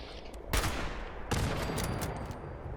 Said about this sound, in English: those Gatling lasers do leave a mark